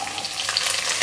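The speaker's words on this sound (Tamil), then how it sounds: "இது கொஞ்சம் வதங்கட்டும்" Small onions sauté in a hot pan, giving a brief, steady close sizzle with light stirring texture and no voices.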